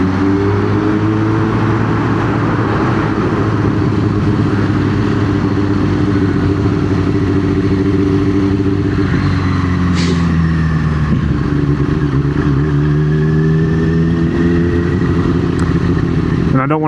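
A first-generation Yamaha R6 sport motorcycle rides through traffic with a steady, loud engine drone whose pitch rises and falls with the throttle, and other vehicles pass nearby.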